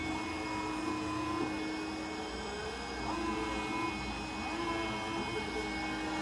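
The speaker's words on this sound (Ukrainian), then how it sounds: "Все, чуєте, він працює як пилисос." A window cleaning robot in automatic mode gives a steady, moderately quiet whirring suction hum, like a vacuum cleaner, with no talking.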